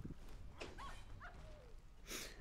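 A dog in the video game Wartales gives a few short, faint yips and whimpering cries, spaced irregularly over a quiet, low game background.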